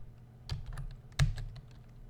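Keys tapped on a computer keyboard in a brief burst of quiet, uneven clicks, with two firmer strokes standing out, close and alone.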